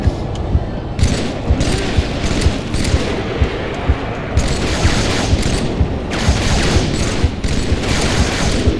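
Gunfire in Halo 3 during the Floodgate level, fought on Legendary against Flood and Brutes, with continuous rapid shots and periodic heavy blasts, loud and close throughout.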